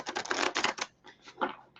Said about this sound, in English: that is called a corner shuffle